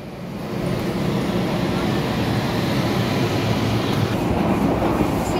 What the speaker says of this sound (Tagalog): Pangatlong tren na po tayo.